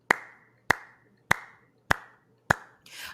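Five sharp hand claps at a steady, roughly even pace, close and loud with a short ring after each, imitating an audience clapping at the end of a song; a brief soft rustle follows the last clap.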